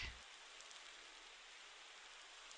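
Steady rain hiss in the Sonic Adventure game, a continuous broadband wash of falling drops over a soft low rumble, even and unbroken.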